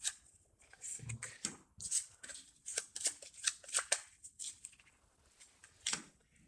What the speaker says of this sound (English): Did I shuffle? I didn't shuffle that